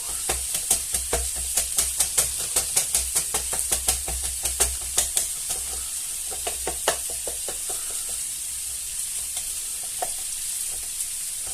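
Onions cooking in a pan for an onion tart, a constant bright sizzle with a quick run of stirring knocks and scrapes early on that thins out to sparse taps later.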